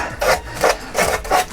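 Four rhythmic rasping strokes of a hand file smoothing the cut edges of a plastic dip tube, each scrape close and distinct with short gaps between them.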